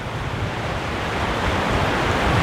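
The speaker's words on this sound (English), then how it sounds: "waterfall behind us," Steady, broad roar of the waterfall at Lauterbrunnen, a continuous rushing wash that swells slightly toward the end, with outdoor wind buffeting the microphone.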